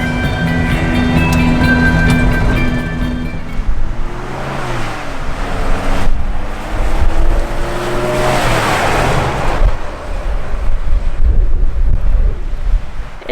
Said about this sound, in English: It is so windy and it's pretty chilly actually